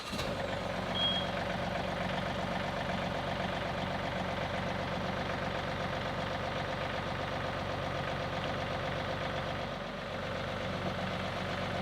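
A tractor engine runs steadily at close range, a constant low mechanical drone with a rhythmic knocking texture and a faint high beep near the start, with no talk over it.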